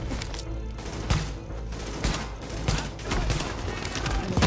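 Enemy gunfire in Tom Clancy's The Division, a checkpoint fight in the Lincoln Tunnel, heard as scattered bursts and sharp shots of moderate loudness over a steady battle din.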